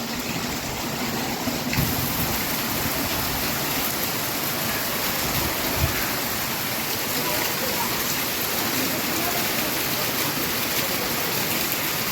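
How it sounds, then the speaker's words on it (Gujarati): Heavy rain driven by strong wind, a dense, loud, unbroken roar of falling water close by, steady throughout with occasional thumps, no voices. "પવન સાથે વરસાદ છે"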